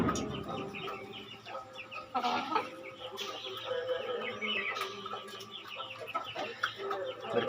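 Black Peru-type hens and a rooster cluck steadily close by in a farmyard. Short, overlapping calls repeat throughout over a constant background of other birds.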